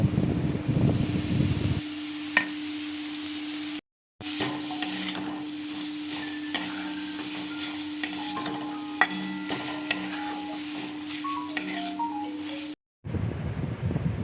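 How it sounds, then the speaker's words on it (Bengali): Chicken masala for a restaurant-style chicken bharta sizzles and fries in a pan, with intermittent scraping and clinking from stirring. There are brief silent gaps. "এবার এই সমস্তটাকে খুব ভালো করে নাড়াচাড়া করে নিতে হবে।"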